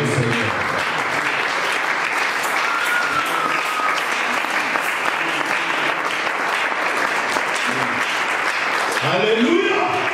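Sustained applause and cheering from a church congregation praising the Lord during a French-language sermon, loud and dense throughout, with a voice rising over the clapping near the end.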